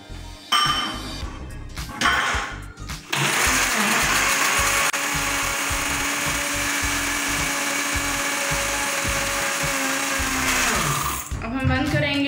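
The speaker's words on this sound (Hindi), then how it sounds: "और फिर इसको ब्लेंड कर देंगे।" A blender whirs egg whites for homemade garlic mayonnaise, starting and stopping with a few clinks and handling knocks, then running as a loud, steady motor drone for several seconds before stopping.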